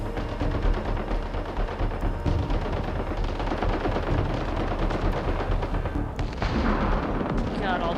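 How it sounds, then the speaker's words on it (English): Sustained video game gunfire from Mass Effect Andromeda on Kadara, a dense steady barrage of shots and blasts running throughout at constant loudness. "all that shooting is making me nervous"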